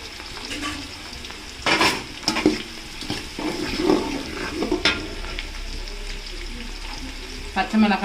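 Sliced large onions frying in a pan for Salem-style dum chicken biryani, a steady sizzle with bursts of stirring and scraping, close by, with no talk.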